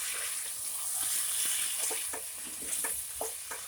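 Chicken coated in bhaja masala sizzles and is stirred in a pan, a close, steady frying hiss broken by soft scraping and stirring sounds.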